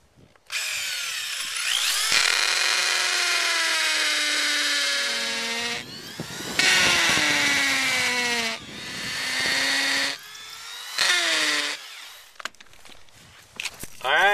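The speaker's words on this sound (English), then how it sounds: "let's drill them out" A power drill drilling holes for log newel posts whines in several long bursts, pitch sliding down as it bites, with short pauses and clicks between runs.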